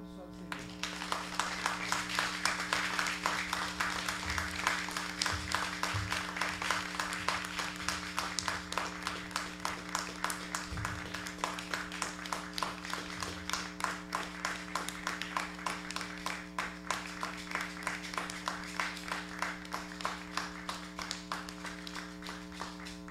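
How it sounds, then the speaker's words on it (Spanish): A congregation claps steadily through a long stretch of an adoration service in church, the dense, even patter running the whole time over a sustained low musical drone. "Un fuerte aplauso al Señor."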